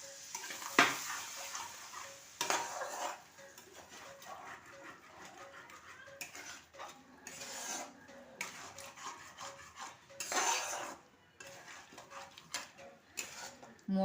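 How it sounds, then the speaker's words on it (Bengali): Water poured into a pan of sizzling potato and cauliflower curry over low heat, giving a close, steady frying hiss with bursts of stronger sizzle and occasional clinks of utensils against the pan. "একটু জল দেবো।"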